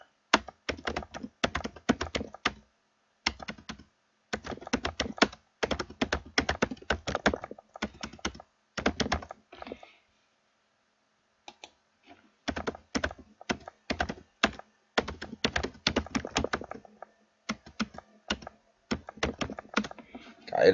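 Keys clatter on a computer keyboard in quick, close bursts as a product name is entered into a blog's sales form, with brief pauses between runs of typing and one longer gap midway.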